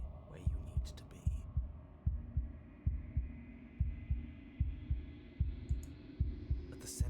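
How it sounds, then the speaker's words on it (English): A wooden, fleshy heart beats in Slay the Princess, a steady, unbroken double-thump pulse repeating about every 0.6 seconds, loud and close over a low droning hum, with no voices. "a wooden and fleshy heart beating with an unbroken rhythm"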